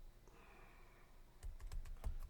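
Fingers tap out a quick burst of keystrokes on a computer keyboard, close and clear, after a short stretch of quiet room hum; the clicks come in an uneven, rapid rhythm.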